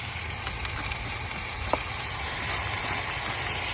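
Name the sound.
nitrogen hissing from leak in R22 HVAC system line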